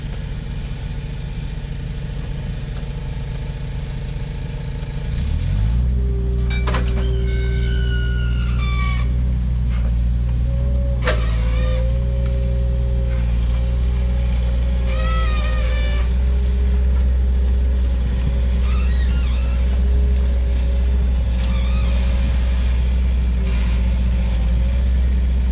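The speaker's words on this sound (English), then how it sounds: "he's going to load it with a skid steer, and then I'm going to drive the skid steer behind" A skid steer engine kicks into life after a few seconds of low rumble, then runs loudly and steadily, with whining, squealing tones rising and falling over the heavy drone while a cart is loaded.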